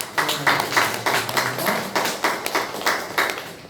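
A church congregation at a Sunday worship service gives encouraging applause, a dense, rhythmic burst of many hands clapping together, fairly loud and sustained for several seconds.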